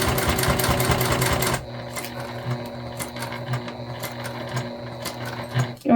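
Sewing machine topstitching a crossbody bag at an eighth of an inch whirs rapidly and loudly, then drops to a slower, quieter stitching with rhythmic mechanical ticks.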